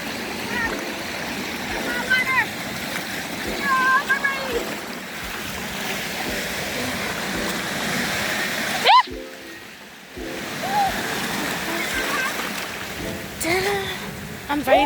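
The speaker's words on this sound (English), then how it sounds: "the waves are getting bigger and bigger" Ocean waves wash and break onto a windy beach, a continuous rushing surf with splashy swells and a brief lull near the middle, with faint voices in the background.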